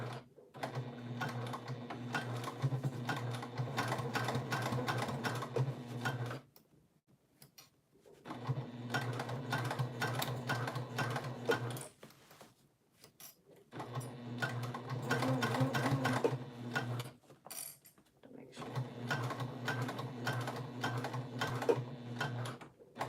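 A sewing machine stitches a basic tote bag in four long runs of rapid, even needle chatter, separated by brief quiet pauses.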